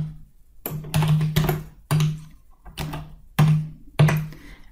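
Several separate, thumping keystrokes tap out a short command on a computer keyboard, close and fairly loud, with brief pauses between the key presses.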